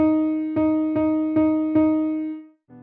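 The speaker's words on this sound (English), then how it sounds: "3 quarter notes in a time of 2 quarter notes sounds like this" A quarter-note triplet on a single repeated pitched tone: one sustained note followed by three slightly quicker, evenly spaced attacks of the same pitch, ringing then fading out.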